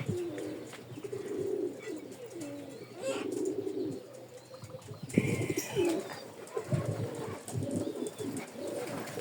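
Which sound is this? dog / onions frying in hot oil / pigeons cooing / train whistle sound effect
pigeons cooing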